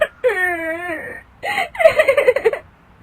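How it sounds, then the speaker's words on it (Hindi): A cartoon sound effect of a woman crying in a Hindi animated horror story: two loud, close, drawn-out wailing sobs, the second breaking into shaky, pulsing whimpers. "तभी उसकी दादी सास को रोने की आवाज आती है"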